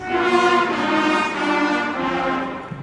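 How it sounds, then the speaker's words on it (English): Trumpets play a loud, sustained brassy passage of held notes, steady throughout, with no talking. "Trumpets, can I hear your measure 3?"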